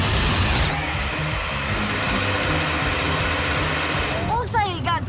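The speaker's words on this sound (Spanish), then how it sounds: "Suma, usa el mini taladro para los agujeros de los postes." A cartoon mini drill bores holes for posts at a construction site, with a steady mechanical whirring drone throughout and a whooshing effect near the end, with voices over it.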